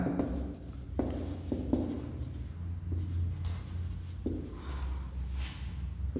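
Pen scratching on paper while a maths proof is written out, with uneven strokes and taps in irregular bursts, close and fairly quiet, over a low room hum.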